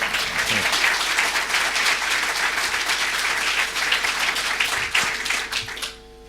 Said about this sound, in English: Come on, everyone, a big clap for this one.